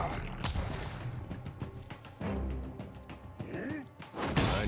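Gunfire in the Pillars of Eternity II: Deadfire video game, aimed at a ship's captain: several sharp shots and thumps cut through busy game noise and music, with voices talking over them.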